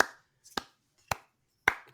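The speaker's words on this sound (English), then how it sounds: "Slow clap, Kevin. Slow clap." Three slow, deliberate hand claps land about half a second apart, crisp and isolated against silence, each sharp and close.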